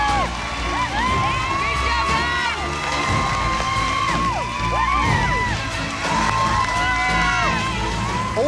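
Kids and friends cheer, whoop and shout together in the MasterChef Junior kitchen during the finale, a loud, dense crowd roar with excited high-pitched yells rising and falling throughout.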